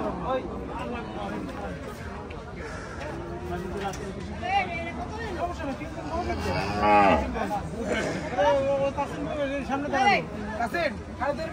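A cow moos loudly in a long, drawn-out call amid a busy crowd of overlapping voices and general bustle at Hazratpur cattle market.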